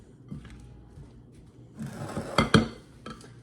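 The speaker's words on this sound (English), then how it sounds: "We're going to give that a sprinkling of salt. Stir that in a little bit." A spoon stirs salt into equal parts chopped tomatoes and cucumbers in a bowl. It starts quiet, then gives a run of close clinks and scrapes against the bowl.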